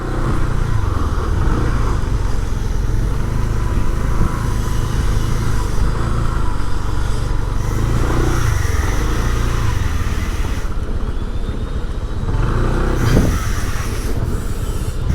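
A motorcycle rides over uneven ground among trees in Tondo, its engine a loud, steady low drone with rattling and occasional knocks, briefly slipping, no talking.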